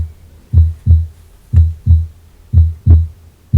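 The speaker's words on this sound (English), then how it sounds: "You hear the heartbeat." A heartbeat sound effect thumps in deep double beats, three lub-dub pairs evenly spaced, loud and close with nothing else audible.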